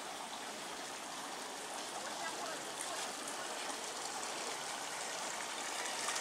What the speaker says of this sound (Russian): А вот он водопад этот.